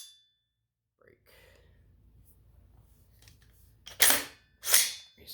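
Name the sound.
James Madison Tactical Black Ops Evo trigger reset and break clicks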